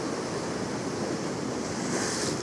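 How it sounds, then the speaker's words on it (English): A set wave breaks on the shore at a fishing spot, a broad continuous roar of surf and swash, close and loud, with wind noise and no talk. "Right, that is a set wave there,"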